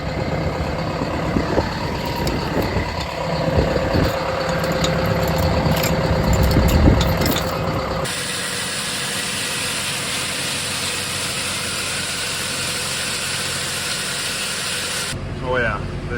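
Trucks and semis idle on a farm while urea fertilizer is moved straight from one truck to another, a steady mid-pitched engine rumble that is busy and mixed for the first half, then drops to a smoother, quieter drone.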